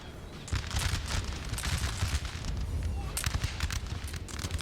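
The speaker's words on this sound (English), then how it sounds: "Only a couple guys are firing." Musket volleys in Napoleon Total War, a War of 1812 battle, crackle as scattered, overlapping shots over a steady low battlefield rumble, fairly close and continuous.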